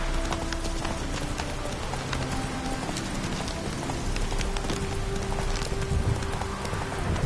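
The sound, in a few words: Roach the horse's hooves, from the video game The Witcher 3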